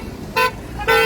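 Car horns honking at a weekly roadside demonstration at Zaatara Junction, with two loud, close, short toots over steady traffic noise.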